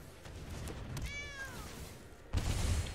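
Digital cat meow from a card played in the Magic the Gathering Arena video game: one clear, rising-then-falling meow, followed by a low game thump near the end, over faint background noise.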